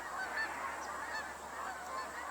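A flock of geese honks at a distance outdoors, with scattered faint calls over a steady background hum.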